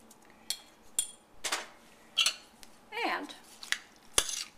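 Chicken pot pie filling mixed in a bowl, with scattered spoon clinks and scraping bursts against the dish, a brief spoken word at the start.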